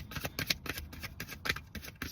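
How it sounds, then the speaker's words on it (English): A deck of tarot cards is shuffled by hand, giving a quick series of soft, close riffling bursts in a steady rhythm with no talk. "thank y'all for being patient with my shuffling"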